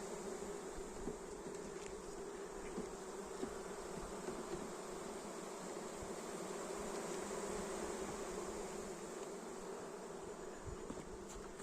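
Swarm of honey bees buzzes in a continuous, even drone, fairly faint and uninterrupted, with no voices.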